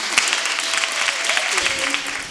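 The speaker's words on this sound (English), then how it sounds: "So who would give her a round of applause?" A school audience bursts into a round of applause for an honored straight-A student at an urban arts honor society event, steady dense clapping with a few cheers and voices mixed in throughout.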